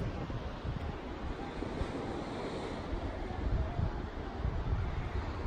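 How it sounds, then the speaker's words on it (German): Wind buffeting the microphone outdoors at a beach by the sea, a dense, roaring rumble that runs steadily throughout with slow swells in level and no clear voices. "Es war ein bisschen windig, ich hoffe, ihr versteht mich gut."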